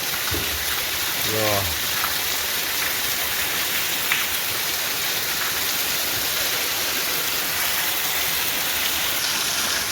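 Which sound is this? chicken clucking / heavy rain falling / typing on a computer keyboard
heavy rain falling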